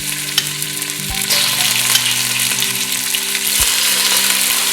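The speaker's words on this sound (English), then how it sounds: "start frying off our chicken" Chicken pieces fry in olive oil in a hot pan, giving a loud, steady crackling sizzle close up, with a low hum beneath and a couple of brief knocks; no speech.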